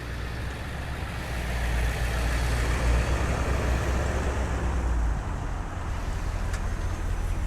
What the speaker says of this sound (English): Let these cars go by again.